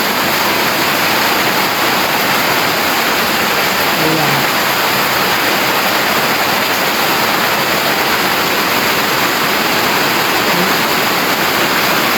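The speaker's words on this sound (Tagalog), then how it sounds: "Kasi nga sobrang ano na, lakas na lang tubig." Strong rushing floodwater during a typhoon, a dense, unbroken roar of churning water that stays loud and close throughout with no distinct breaks.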